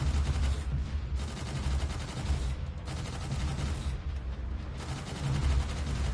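Cannons in the space shooter EVE: Gunjack fire in a dense, continuous barrage of rapid blasts, loud and close with no talking.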